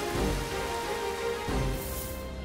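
Rain falls steadily in a continuous soft hiss and patter, even in level with a slight swell midway, and no voices are heard.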